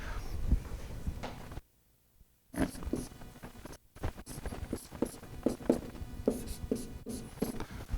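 Eraser or chalk scraping across a classroom board during a physics lecture on thermal expansion, heard as a run of short rubbing strokes and scuffs with a couple of brief pauses, close and moderately loud.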